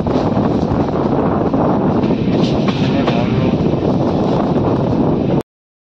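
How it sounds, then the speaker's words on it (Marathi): Steady loud rumble and rushing noise of a moving Mandovi Express train heard from inside a carriage, with wind buffeting, running continuously before cutting off abruptly. "मांडवी ट्रेनमध्ये."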